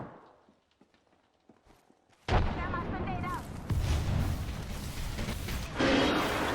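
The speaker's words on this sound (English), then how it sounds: "Good thermite by a teammate here." A thermite grenade goes off in the Apex Legends video game: after faint steps and quiet taps, a sudden loud burst gives way to a sustained, roaring, crackling burn that swells again near the end.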